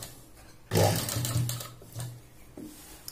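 Sewing machine stitching saree fabric into a dress, running in a short loud burst, then briefer whirring runs with pauses between them, fairly close.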